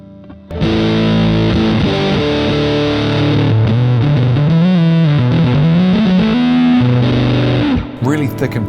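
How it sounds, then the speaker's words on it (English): Electric guitar played through a home-built dirt pedal with its fuzz switch engaged, a thick, saturated fuzz tone sustaining loud and continuous for about seven seconds as single notes slide and bend, then cutting off. "Let's flick that fuzz switch on and check out what sort of sounds we get."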